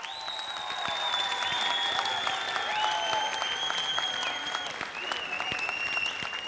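A studio audience at a Popstar TV talent show applauds steadily and loudly throughout, sustained clapping mixed with cheering and whistles, with no talk over it.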